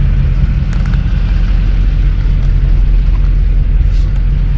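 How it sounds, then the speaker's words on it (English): A Chevy Duramax 2500 LML diesel truck driving with windows partly down, a loud steady low engine and road rumble filling the cabin throughout. "I love this Chevy truck."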